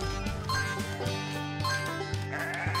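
Sheep bleating in a Paw Patrol video game, several short repeated bleats over steady game music with soft chiming tones.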